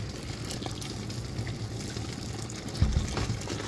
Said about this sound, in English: So you add the hot water.